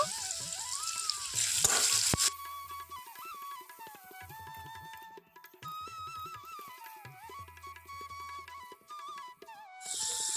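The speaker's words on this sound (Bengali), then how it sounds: "এখন আমি এই তেলের মধ্যে সেদ্ধ করে রাখা আলুগুলো ভেজে নেব" Boiled potatoes fry in mustard oil in a wok with a quiet, soft sizzle. A wavering tonal whistle or melody plays over it, and two louder bursts of hissing rise near the start and at the end.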